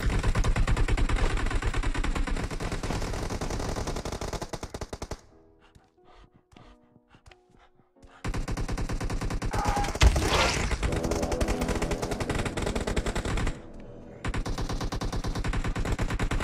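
Rapid automatic gunfire in PUBG Mobile rattles loud and dense, breaks off for a few seconds into quieter game sounds, then resumes in sustained bursts with a brief pause near the end.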